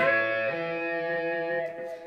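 A distorted electric guitar plays a short lick with a string bend, the sustained notes sliding in pitch and ringing out with effects.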